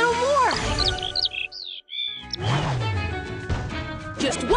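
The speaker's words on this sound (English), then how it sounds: "Look, a songbird." A cartoon songbird chirps in a quick run of bright, sliding tweets amid lively animated sound effects and character voices.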